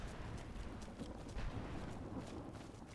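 Ghostly horse Arvak's hooves clip-clop steadily at close range in Skyrim, a continuous run of muffled, even-paced footfalls under a dense low rumble with no talking.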